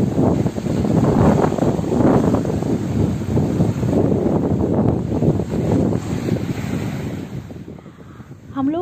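Strong, steady wind blows across a Maldives beach, a loud rushing roar that surges and eases throughout and fades toward the end, with a short bird call at the close.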